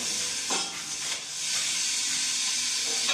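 Chopped onion going into a hot skillet for jambalaya, a steady broad hiss and sizzle filling the whole stretch, loud and close with a slight swell around the start of frying.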